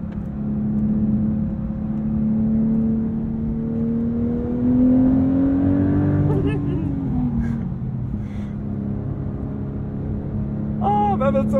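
A Porsche 911 Sport Classic with a manual gearbox revs while driving, its engine note climbing steadily, then dropping sharply at a shift before building again, loud and close throughout.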